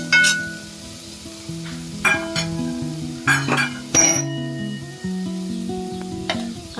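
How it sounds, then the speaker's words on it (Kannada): Ginger garlic paste fries in a pan while a utensil stirs it. Soft sizzling runs throughout, punctuated by several sharp metallic clinks and scrapes of the spoon against the pan. "ಆ ಘಮ ಬರೋವರೆಗೂ ಚೆನ್ನಾಗಿ ಹುರ್ಕೊಳ್ಳಿ"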